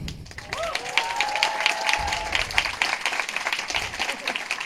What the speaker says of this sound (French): Un tonnerre d'applaudissements d'abord pour Lou Trottignon.